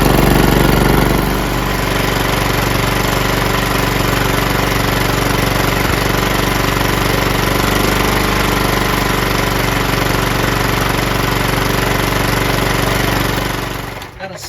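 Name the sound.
John Deere LT160 lawn tractor Kohler engine running after repair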